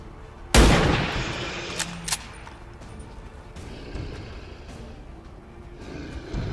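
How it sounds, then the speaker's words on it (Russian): A sniper rifle shot fired in the XCOM 2 video game, a single loud sharp report near the start with a short decay, followed by a couple of smaller impact sounds over low game ambience. "Снайперский выстрел на 75."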